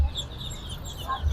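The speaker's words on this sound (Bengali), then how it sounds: "এই যে চীনা হাঁসের বাচ্চা?" Chinese duckling chicks at a poultry market give short bright peeping calls, close and brief over a low background rumble.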